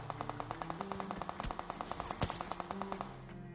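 Rapid, evenly spaced gunshots crackle in bursts from a video game, with a couple of louder sharp cracks among the steady rhythmic fire.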